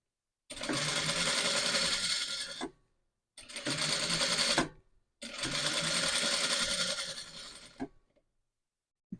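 A sewing machine stitches a blouse in three bursts of fast, steady mechanical whirring, each a couple of seconds long, separated by short pauses and heard close.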